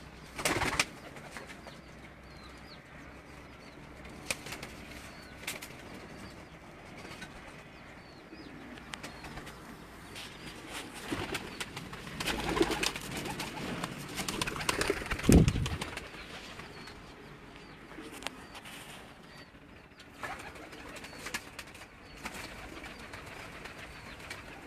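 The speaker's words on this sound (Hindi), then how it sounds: "तो दोस्तों ये जो हीरा कबूतर अब आप इस मेरे कैमरे की स्क्रीन पर देख रहे हैं" Heera pigeons cooing softly in a loft, faint low coos with occasional wing flaps and a louder flutter midway, no talk.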